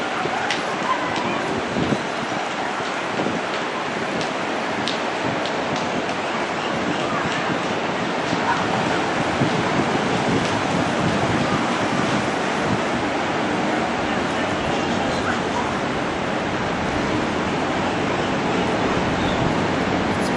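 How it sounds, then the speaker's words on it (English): Continuous rushing surf with a broad, steady roar, like calm waves breaking nearby at a beach in Mazatlán, Mexico, with wind noise buffeting the microphone throughout. "Lots of times the waves are a lot larger than this where they are."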